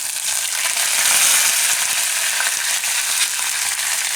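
Cumin, red chillies and green chillies fry in hot oil for a cabbage curry, giving a loud, close, steady sizzle with faint crackling throughout.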